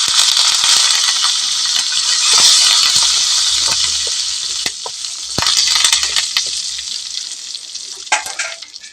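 Loud, steady sizzling of cumin and curry leaves frying in hot oil, with occasional crackles and stirring scrapes throughout, no voices.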